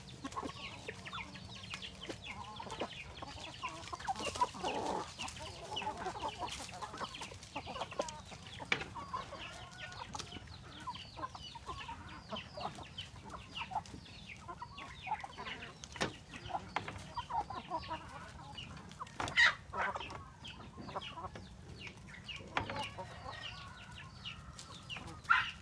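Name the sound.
meat-type chickens clucking on a poultry farm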